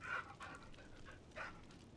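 Dog being petted in the video game Pentiment, giving two soft, short whimpering yips at low volume.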